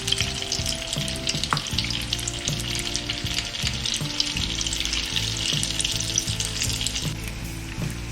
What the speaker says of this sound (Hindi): ये बहुत सॉफ्ट होते हैं तो इनको आपको बहुत ही संभाल के तलना है।